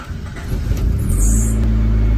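An abandoned Honda Prelude's engine cranking and trying to catch, a low rumbling drone that builds and holds steady, loud and close.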